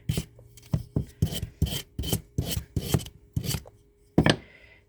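Close, rhythmic rasping strokes of sandpaper on a small wooden piece being smoothed for a craft project, about nine even back-and-forth scrapes with a final louder stroke, no voices.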